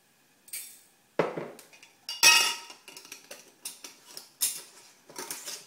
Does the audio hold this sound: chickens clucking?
no